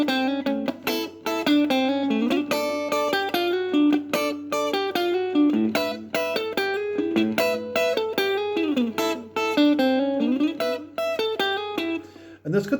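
Guitar plays the extra riff from a song as a steady run of bright picked notes and chord stabs that continues for about twelve seconds, close and alone with no voices.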